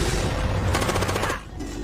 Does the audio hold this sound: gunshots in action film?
yes